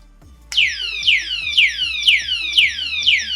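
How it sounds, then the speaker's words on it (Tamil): A padlock's built-in alarm siren blares, repeating rapid descending chirps in a steady rhythm for about ten seconds, stops briefly, then starts again. "இப்போ இந்த பூட்டை நீங்கள் லாக் பண்ணும்போது அந்த 3 பீப் வந்து லாக் ஆகும்."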